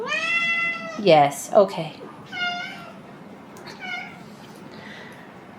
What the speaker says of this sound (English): You always got to be meowing in the background, don't you?